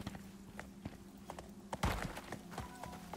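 Horse hooves clip-clop at a steady walking pace in the survival video game Icarus, moderately close, with faint ambient background between the footfalls and one louder thump.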